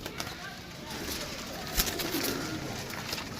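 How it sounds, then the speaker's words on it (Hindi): Pigeons coo softly at a loft in Gujrat, a low murmuring burble under a voice, with a brief wing flutter midway. "टैडी कबूतर सही है"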